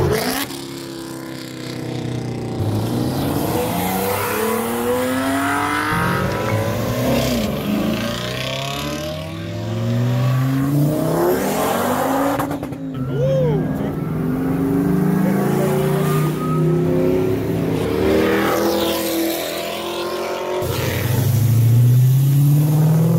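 A Cadillac car accelerating, its engine note rising in repeated sweeping pulls with gear changes, loud and fairly close, mixed with other traffic, no talk.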